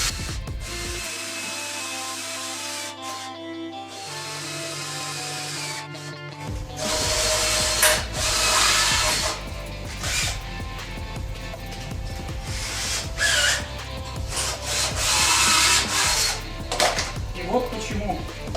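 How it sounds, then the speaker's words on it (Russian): Cordless screwdrivers drill and countersink into wood while assembling a loft-style kitchen, giving bursts of whirring and ratcheting close by with pauses between runs. "одним шуруповертом мы засверливаем, вторым шуруповертом мы делаем потай"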